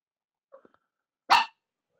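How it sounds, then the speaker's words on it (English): A dog named Luna lets out a single loud, close bark after a couple of faint soft noises, then silence. "Luna, stop barking"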